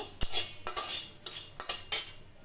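A spoon scrapes and clinks against a pot as whole bay leaf, peppercorns, cardamom and cinnamon are stirred, several sharp metallic strikes spaced irregularly over a quiet background.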